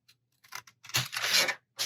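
Scissors cut a paper booklet template in a few short snips and then a longer slicing cut, close and clear with quiet pauses between.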